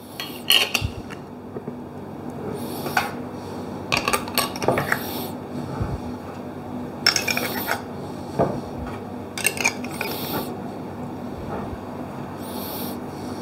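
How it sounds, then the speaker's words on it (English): Glass jars of brined olives being sealed up while the brine is still hot, with scattered close clinks of glass and metal and scraping, rattling lid sounds in an irregular rhythm, no voices present. "make sure that you seal your jars up while the brine is still hot"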